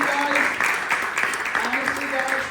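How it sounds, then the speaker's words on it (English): Applause from a breakfast-event audience at a Columbus Day celebration, honoring police, firefighters and EMS, a sustained wash of clapping with voices talking faintly over it. "Just a round of applause for all of our first responders, all of our police officers, firefighters, EMS,"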